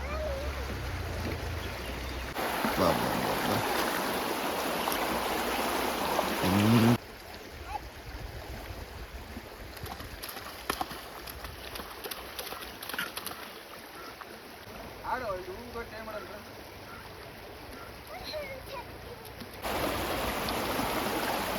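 Stream water flows near the Adi Subramanya temple at Kukke Subramanya in a steady broadband rush, louder at the start and end, with faint voices underneath.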